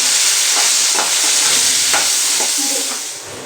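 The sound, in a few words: frying paneer in oil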